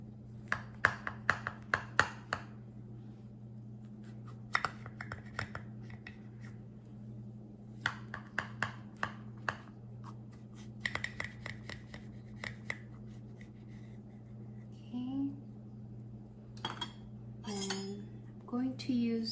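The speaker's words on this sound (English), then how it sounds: "just going to cut a slice" A knife and spoon cut through crumble apple pie on a plate, giving repeated sharp clinks and scrapes of metal on dish in irregular bursts, close up over a low steady hum, with no speech.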